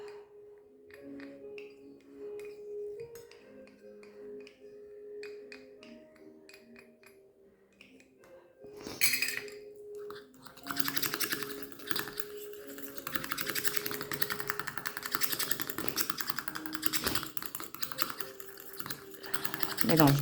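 A cosmetic face-care mixture with white lilac fragrance is stirred in a bowl, giving a steady scraping, clicking rasp that starts partway through and continues loud and close to the end, following quieter tonal sounds.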